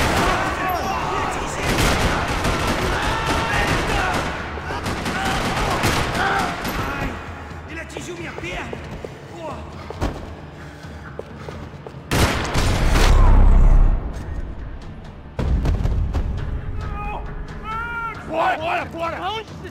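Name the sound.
gunfire in a parking lot in the video game Max Payne 3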